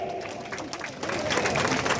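A crowd at a political rally claps in a loose, moderate burst that swells slightly over two seconds, heard at some distance with a faint murmur of voices.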